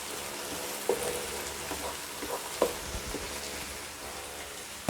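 Garlic frying in hot oil for restaurant-style egg chicken fried rice, a steady close sizzle with a few sharp pops and spatula clicks, no voices.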